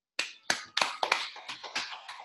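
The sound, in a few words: audience clapping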